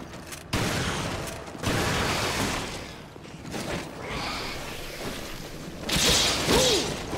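Gunfire and combat noise in the survival horror game Resident Evil Revelations, with sharp shots and crashing hits over a busy background, plus whooshing mechanical effects and a rising tone near the end.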